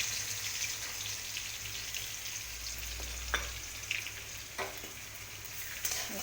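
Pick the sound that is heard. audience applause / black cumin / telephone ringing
black cumin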